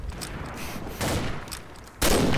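Video game gunfire during an official match crackles in rapid bursts, with a few moderate volleys followed by a louder, closer burst at the end and no talking.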